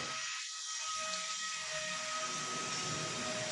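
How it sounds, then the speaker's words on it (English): A power drill whines steadily at close range while drilling into a door frame during entry door installation, a continuous high-pitched motor tone with grinding underneath that builds slightly as it bites. "Drill the other side following the 237 mm elevation as well."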